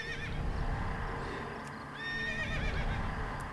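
A horse in a video game gives a clear, close whinny with a wavering, rising-and-falling cry over a steady background of game noise and soft hoof sounds.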